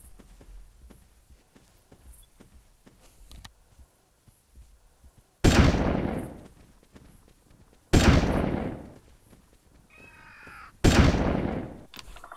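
Three loud, sharp gunshots ring out a few seconds apart, each with a long decaying tail, fired at an animal in the Carnivores 2 hunting game, following quieter footsteps and ambient outdoor sounds.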